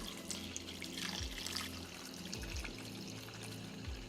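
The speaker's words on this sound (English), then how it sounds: "go ahead and add your water." Water pours into a cooking pot of seared pork pieces for caldo de puerco, a continuous splashing stream with gurgling surges and rising tones as the pot fills.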